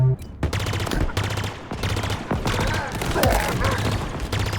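Ravager weapon in Halo Infinite firing in a steady, pulsing sequence of heavy shots, about a dozen loud discharges spaced regularly amid dense combat noise.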